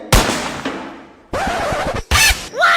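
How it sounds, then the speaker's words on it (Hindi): Several loud gunshots, each a sharp bang with a ringing tail, the later ones quick and close together. "कहाँ गोली चल रही है?"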